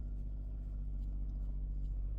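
A truck engine runs steadily at idle, a low continuous rumble close by, with no talk over it.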